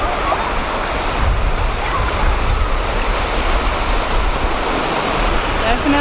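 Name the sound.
ocean waves at New Smyrna Beach, Florida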